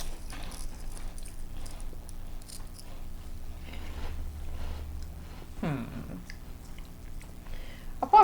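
Someone chews crunchy, fishy Korean snacks close to the mic, with soft, irregular crunching and bites spread through the clip.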